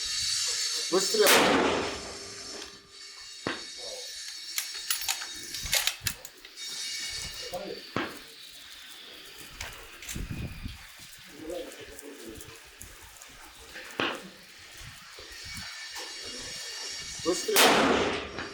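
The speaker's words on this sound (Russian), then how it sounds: "Выстрел." Rifle shots at a 500 m shooting competition held for Kyrgyz Independence Day, several sharp loud reports spaced irregularly across the range amid faint ambient noise and occasional quiet voices.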